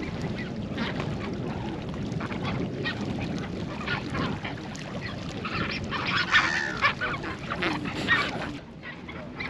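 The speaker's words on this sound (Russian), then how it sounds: "Розовый фламинго, дитя заката." A flock of pink flamingos in Namibia gives a dense, continuous chorus of goose-like honking and gabbling calls, close and fairly loud, with no voices over it.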